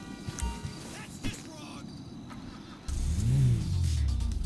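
Car engine in GTA V revving up loudly in the second half, a rising and falling growl after quieter game ambience and brief clatter.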